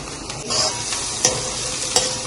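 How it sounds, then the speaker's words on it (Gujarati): Capsicum tossed into onions sautéing on a tawa, a steady sizzle with stirring scrapes and two sharp spatula clinks against the pan, close and alone without talk. "કાંદા થોડા સતરાઈ જાય પછી એની અંદર શિમલા મિરચા, 1 નાનું શિમલા મિરચું નાખવાનું"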